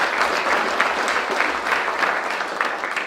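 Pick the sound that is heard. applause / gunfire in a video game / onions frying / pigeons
applause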